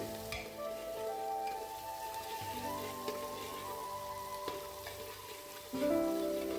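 Quiet sizzling of peas frying in a pan with salt, with occasional scraping and stirring clinks; no voices.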